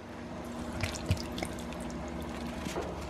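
Coconut water pours into a smoothie blender with soft, faint trickling and a few small drips and splashes, close by with no voices.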